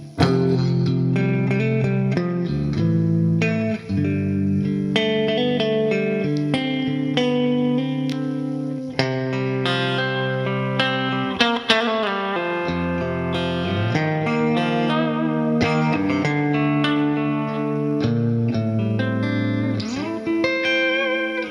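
Electric guitar notes and chords ring out continuously through the neck pickup, clean and articulate with a bell-like, piano-ish tone, played alone for about twenty seconds.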